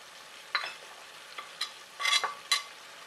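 Tomato masala seasoned with chole spices is stirred and fried in a pan, giving quiet, sparse scrapes and soft sizzling bursts over a few seconds, with no voices.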